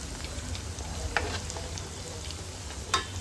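Veg kaima balls, a vegetable kofta, shallow-frying in a pan, with a soft continuous sizzle at low level and a couple of light clicks from turning or stirring.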